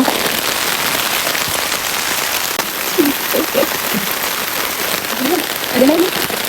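Heavy rain drums steadily on a nearby tarp, a dense hiss with scattered patters, while a few brief voices sound faintly underneath.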